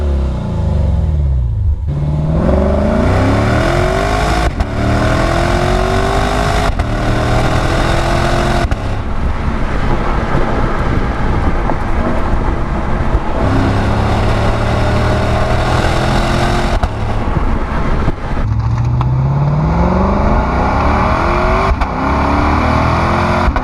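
A Lexus RC-F luxury coupe drives hard, its engine and exhaust loud and close with repeated rising revs through the gears, deep rumble and brief lifts between pulls on long sweeping turns.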